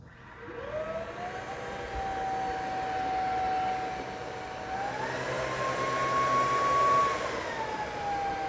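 An LG R9 robot vacuum cleaner runs an edge-cleaning pass on carpet, a loud steady whine and rushing motor tone that rises in pitch partway through and holds, close and continuous with no talking.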